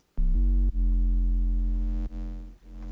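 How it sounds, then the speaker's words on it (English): A deep FM foghorn bass synth patch built in Serum plays sustained low buzzing notes with a harmonic-rich tone, held alone in a few separate phrases with brief breaks between them. "You're starting to hear that FM sound."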